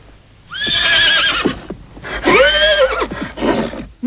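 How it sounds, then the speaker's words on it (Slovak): A horse neighs loudly and close by, two long shrill whinnies separated by a short pause, with faint hoof sounds between them. "Je to skutočne krásny kôň."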